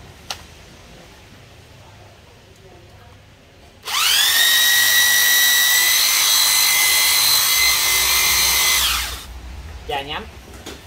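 A power drill whirs steadily for about five seconds at close range, starting and stopping abruptly, with brief handling noises before and after.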